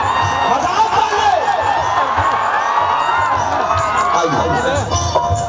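A dense crowd at a Khesari Lal Yadav stage show in Nepal shouts and cheers loudly and continuously, with whoops and children's voices rising over a steady roar.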